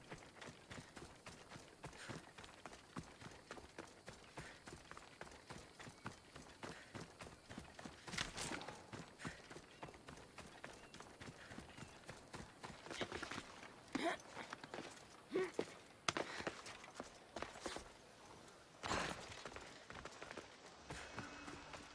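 Rapid, rhythmic clip-clop of horse hooves in Assassin's Creed Odyssey runs steadily throughout, fairly quiet, with a few louder thuds mixed in.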